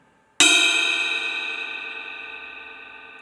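A ride cymbal's bell struck once with a Vic Firth Peter Erskine stick rings out loud and close, a bright metallic ping whose shimmering overtones decay slowly over about three seconds.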